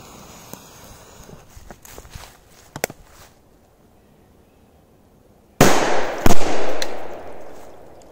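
Soft footsteps and small clicks, a pause of near silence, then two sharp firecracker blasts in quick succession, loud and close, blowing up a toy tractor's bucket, fading into echoing rustle.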